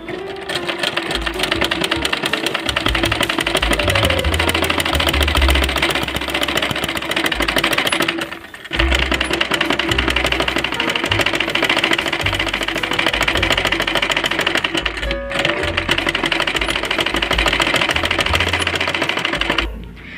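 A sewing machine stitches a child's umbrella frock in long, loud, steady runs of rapid mechanical chatter, broken by a couple of brief pauses.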